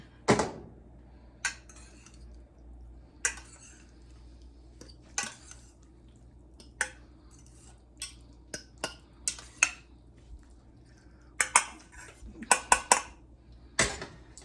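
A spoon stirs broccoli and cheese in a pot, clinking and scraping against the metal in irregular sharp knocks over a quiet background, with bursts of quicker taps toward the end.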